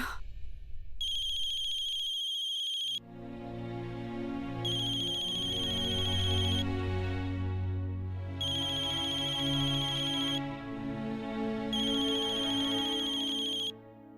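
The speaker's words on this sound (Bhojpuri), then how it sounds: "ये अनुराग के फोन लगावे के बा" A phone ringtone plays while a call is being placed, sounding four times in evenly spaced bursts over a sustained musical backing, with no talking.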